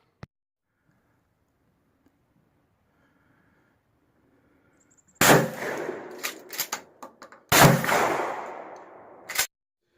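Maverick 88 12 gauge pump shotgun fired, two loud sharp blasts a couple of seconds apart, each followed by clattering pump action and a short final clack, after several seconds of near silence.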